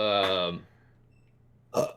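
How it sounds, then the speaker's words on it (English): Someone talks briefly, then after a pause lets out a short, close burp. "I keep burping, dude."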